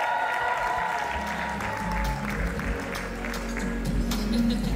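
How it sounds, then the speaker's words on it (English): An audience at a live podcast show applauds steadily, with dense, continuous clapping that holds at an even level throughout and no talk over it. "give a round of applause"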